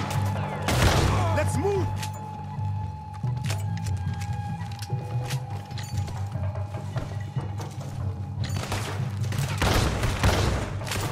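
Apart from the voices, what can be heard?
gunshots in Red Dead Redemption 2 video game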